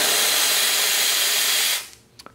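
Steam bursting from the wand of a Rocket Appartamento heat-exchanger espresso machine, a loud, close, steady hiss that cuts off abruptly, followed by a couple of small clicks.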